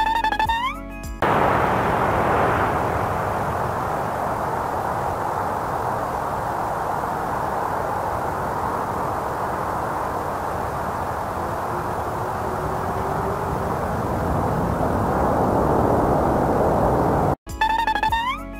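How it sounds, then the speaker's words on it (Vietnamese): An airplane passing as a steady, loud broadband roar lasting most of the clip, with a faint rising whine partway through, cut off abruptly near the end; short bursts of other sound bracket it at start and finish. "Máy bay, tiếng Anh đọc là plane."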